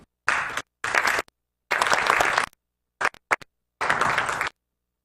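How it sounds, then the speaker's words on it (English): Applause at an awards ceremony, heard in loud bursts of dense clapping broken by abrupt silences, as if the recording cuts in and out, with no speech. "I'll give a round of applause."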